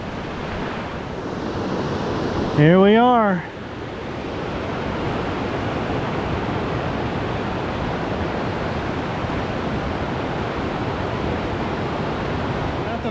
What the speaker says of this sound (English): Now that we've got down here to the river, it's a nice little camp spot